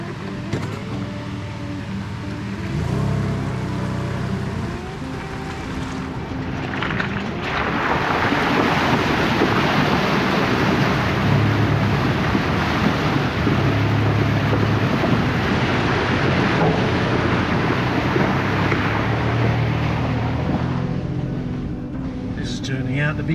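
A vehicle on an outback road trip in Far North Queensland fords a creek crossing. Water splashes and rushes steadily for a long stretch, mixed with engine rumble and wind buffeting, and voices murmur inside the car.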